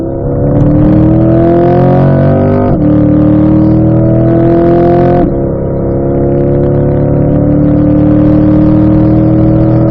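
A car engine revs loudly from inside the cabin as it accelerates out of a corner on a race track, rising in pitch, dropping sharply at two gear shifts, then climbing again, with no voices.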